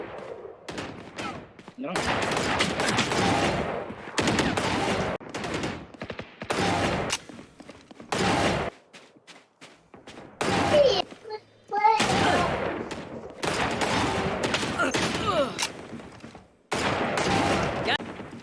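Bursts of rapid gunfire from the Free Fire video game come in dense volleys separated by short gaps, loud and close, with a voice speaking briefly between the bursts.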